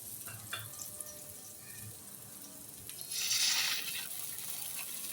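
Eggplant pieces fry in a pan after soy sauce and vinegar go in, giving a steady close sizzle with faint clinks early on and a louder hissing burst partway through.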